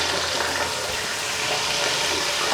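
Steady, loud sizzling as beef hits browned onions in a hot pot for white beef pulao, a continuous frying hiss with no talk.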